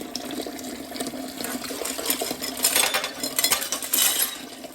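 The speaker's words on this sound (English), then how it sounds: "boil them in half vinegar, half water for about 20 minutes" Metal furniture hardware boiling in a pot of half vinegar, half water, bubbling and rattling with light clinks and chinks that grow busier and louder toward the end.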